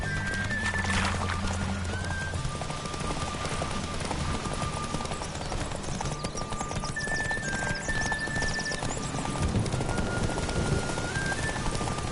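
Horses gallop in a horse race in the video game The Witcher 3, with a steady, driving clip-clop of hooves throughout, close and fairly loud, backed by game music and ambience.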